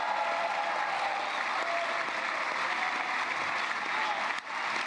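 Sustained, loud applause and a standing ovation from a large crowd for Ron Dermer, a continuous dense roar of clapping with faint cheering mixed in throughout.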